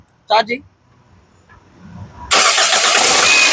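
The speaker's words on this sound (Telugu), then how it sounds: "మళ్ళీ ఒక్కసారి ఇంజన్ స్టార్ట్ చేసి చూపిస్తున్నాను" A 2011 Toyota Etios G petrol car cranks and starts, settling into a loud, steady idle right up close after a short pause, with someone speaking briefly before the engine turns over.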